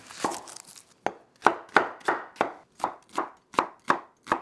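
A knife chopping an onion on a board, about ten to twelve firm, evenly spaced strikes, crisp and close with no talk over them.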